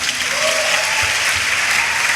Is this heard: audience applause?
yes